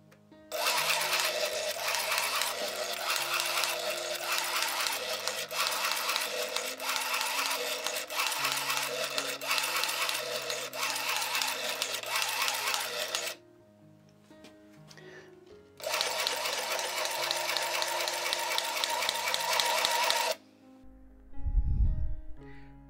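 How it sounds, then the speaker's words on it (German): A Sinclair ZX Printer printing a line of text through L-Print, giving a dense, loud mechanical buzzing in two long bursts separated by a quieter pause, followed by a short low thump. "L-Print druckt einen Text direkt auf dem Drucker aus."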